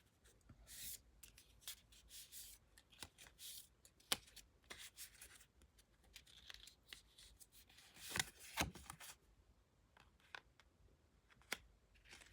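Oracle cards being shuffled and handled during a tarot reading, soft rustling, sliding and tapping strokes that come in irregular quiet bursts close by, with a denser flurry of card noise partway through and no talking.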